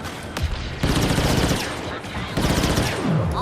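Dense blaster and gunfire bursts from Star Wars Battlefront 2 gameplay, loud continuous volleys with brief breaks, a voice talking over the shooting.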